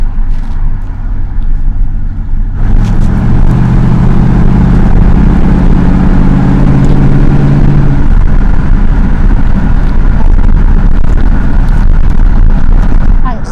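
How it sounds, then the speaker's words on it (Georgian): A 1979 Chevrolet Corvette C3 engine revs from inside the cabin, a loud, deep rumble swelling after a quieter idle and holding steady with heavy low roar and wind-like noise. "ახლა უნდა მოგასმენინოთ ხმა სალონში თუ როგორ ისმის, როცა ჩააჭერ."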